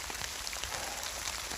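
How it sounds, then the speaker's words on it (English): Steady rain hisses down on a cold Appalachian Trail hiking path, an even wash of drops with faint patters; moderate and continuous, no voices. "I walked all the way fucking down here in the rain."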